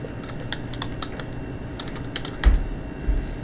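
Rapid keystrokes on a computer keyboard entering a search term, a quiet irregular run of light clicks with a couple of heavier taps near the end, alone over a low steady hum.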